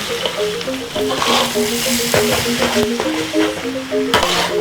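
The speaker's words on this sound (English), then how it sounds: "Add the chilies. along with the smoked skipjack tuna. Mix well." Chilies and smoked skipjack tuna sizzle and fry in a pan for a spicy sambal, steady crackling broken by repeated scraping stirs of a utensil against the pan, close and fairly loud with no talking.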